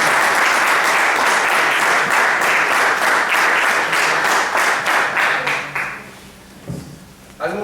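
Audience applause for an athlete at an athletics awards ceremony, a loud sustained burst of many hands clapping that tapers off after about six seconds, leaving a few scattered claps and room noise.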